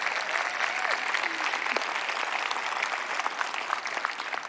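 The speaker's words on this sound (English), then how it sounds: "give them a big round of applause." Audience applause at an American Sign Language event, a dense steady wash of many hands clapping that holds evenly for several seconds at moderate loudness, with no speech over it.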